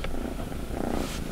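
Small kittens purr softly in a continuous low rumble up close, faint and steady with no talking.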